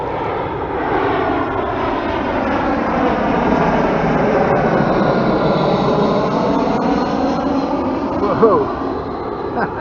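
A large airplane flies low overhead above a kayak on the Rideau River in Ottawa, a loud continuous engine roar swelling and sweeping past for several seconds, with a brief exclamation from a voice.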